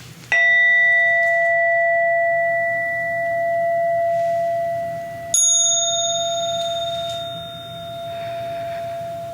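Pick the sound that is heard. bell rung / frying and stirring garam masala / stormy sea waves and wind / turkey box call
bell rung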